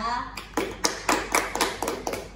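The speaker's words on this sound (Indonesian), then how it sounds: "Kita beri tepuk tangan lagi ya." A small group at a school podcast competition claps in a steady, rhythmic patter of about eight distinct, fairly close hand claps, with a faint voice underneath.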